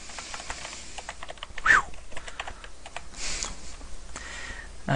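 Typing on a computer keyboard while entering article text in a Joomla editor, a rapid run of light, close plastic key clicks with a brief louder burst partway through.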